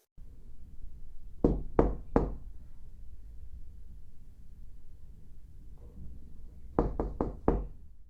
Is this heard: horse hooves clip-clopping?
no